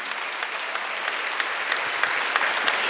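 Steady applause from a congregation at a Wednesday church worship service, dense clapping filling the whole stretch with a few sharper claps standing out, fairly loud and close.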